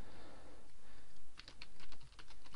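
Keys clatter on a computer keyboard while a short tweet is typed out, coming as quick bursts of close, light clicks in the second half with a brief pause between runs.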